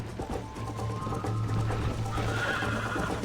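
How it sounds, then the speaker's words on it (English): A horse neighs loudly in a Wild West video game, one sustained whinny over steady background game sound, with no talk. "Do nada o cavalo me derrubou, cara."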